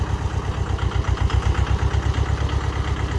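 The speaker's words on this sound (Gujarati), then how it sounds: "તો જો આ ટ્રેક્ટર છે" A tractor engine runs steadily nearby in an open field during ploughing, with a rhythmic low diesel chug and a fairly loud, even throb that never lets up.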